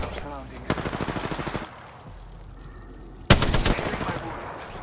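Two bursts of rapid automatic gunfire in Apex Legends, each a dense run of evenly spaced shots about a second long, loud and close, with a quieter stretch of game ambience between them.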